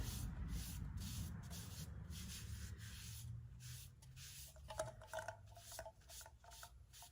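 A wet shop cloth rubs over painted wood to distress it. The scrubbing is steady and close, with no voices, and a few sharper scuffs come near the end.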